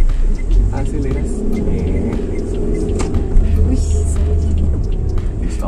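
Car engine revving up and pulling away on an uphill slope during a driving lesson, a steady low rumble rising under an instructor's voice talking throughout.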